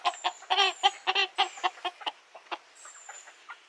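Several chickens in a homestead coop clucking close by in a quick, uneven run of short calls that grow sparser and softer toward the end, with no talk over them.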